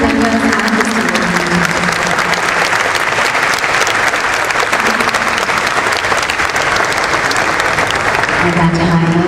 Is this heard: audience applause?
yes